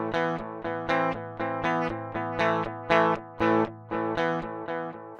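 An electric guitar runs through the first signal path of a Line 6 Helix amp modeler, playing a steady rhythmic pattern of repeated distorted chords with clear pulses, loud and close with no voices.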